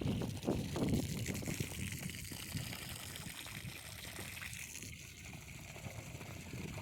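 Water trickles and splashes steadily at close range as strawberry guava trees are watered outdoors in the Arizona desert, a soft continuous flow with no talk.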